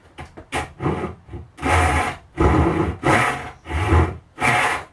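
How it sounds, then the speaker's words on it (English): Freshly sharpened hand saw cutting into Purple Heart wood, a rhythmic series of about eight rasping push-pull strokes, loud and close, each stroke a broad scratchy burst separated by short pauses. "Let's take a few cuts into this Purple Heart."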